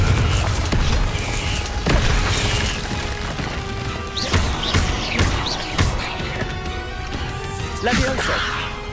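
Confringo blasting-spell explosions in the video game Hogwarts Legacy, heard as several sharp, heavy booming blasts spread across a busy stretch of game combat noise.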